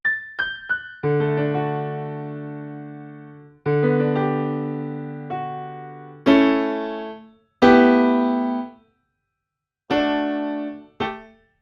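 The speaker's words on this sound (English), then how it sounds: "So this is basically a grand piano" Solo grand piano from a UAD Ravel plugin, dry, playing sparse chords and single notes in separate phrases, each ringing out and decaying, with brief silences between.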